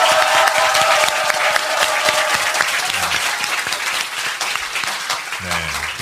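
Studio audience at a Korean current-affairs talk show recording bursts into sustained, dense applause as the show opens, loud and steady for the whole stretch with a faint voice surfacing near the end.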